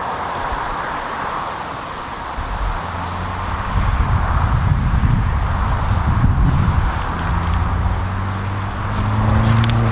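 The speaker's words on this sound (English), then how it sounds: "It's quite a bit of traffic noise" Steady road traffic rumbles nearby at a UK roundabout, low engine drone and passing vehicles swelling over a windy background, with no voices.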